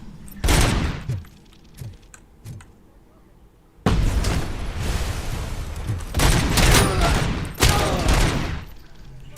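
Bursts of heavy gunfire and booming shots in the Robocop Rogue City video game, with loud repeated volleys in clusters separated by brief quieter gaps.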